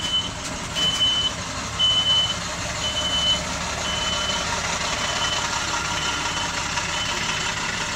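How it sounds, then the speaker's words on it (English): A box truck reversing close by sounds its beeper in a few evenly spaced pulses over the loud hum of an idling engine, followed by a steady engine drone. "there's a box truck back next to me with a beeper"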